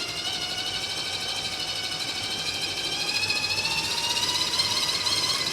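An RC car motor on a dyno runs at full throttle with a steady high-pitched whine that climbs gradually in pitch, loud and close with a slight buzzing flutter and no talking.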